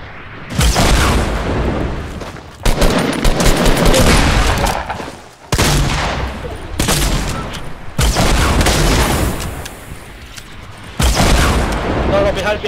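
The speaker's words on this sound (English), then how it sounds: "Are they shooting at us?" Heavy video game gunfire in loud rapid bursts and booming volleys, several separate barrages with short pauses between them. Players talk over the shooting.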